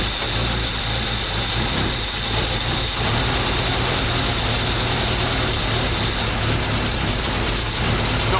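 A cold engine with choke applied cranks and catches, then runs unevenly as it misfires and fails to fire on all cylinders, a loud, continuous rough idle with no talk over it.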